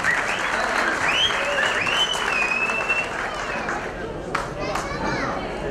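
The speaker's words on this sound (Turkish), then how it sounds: "Bir alkış gelsin bakalım." An audience at a stage comedy event claps steadily and fairly loudly, with whistles and cheers cutting through the applause and some chatter, including children's voices, underneath.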